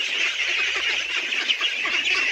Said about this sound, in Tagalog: Dito po sa aking alagang itik.